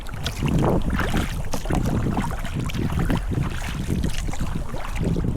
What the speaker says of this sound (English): Let's paddle with this for a little bit and see what else comes up.